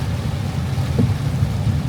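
Heavy rain pours steadily, a dense, loud hiss with a low rumbling undertone, unbroken throughout a short stretch during a road trip.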